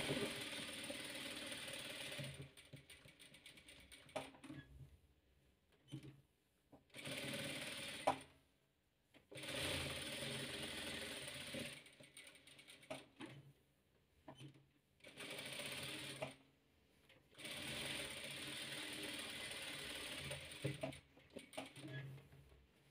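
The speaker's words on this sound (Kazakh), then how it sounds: "Енді мынаны айналдыра тігіп шығамыз." Domestic sewing machine stitching around the edge of a patchwork quilt, running in several bursts of steady mechanical whirring separated by short pauses, close and clear with no talking.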